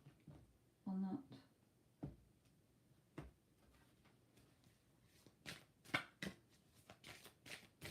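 Tarot cards are shuffled by hand during a live reading, producing quiet, intermittent riffling and tapping bursts, with a louder flurry of quick snaps near the end, close and soft with faint background.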